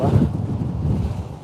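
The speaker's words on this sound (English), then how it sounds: "it's really, really windy, you know. It is absolutely blowing a gale" Strong gale-force wind buffets the microphone at Blackpool, a loud low rumbling roar that gusts steadily for a second and a half with no other clear sound.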